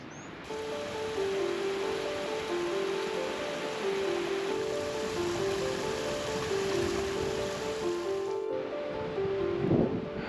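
Strong wind whips across the mountainside near Diamond Lake and the Fourth of July trailhead in the Indian Peaks Wilderness, a continuous loud, close roaring rush with faint steady tones beneath it.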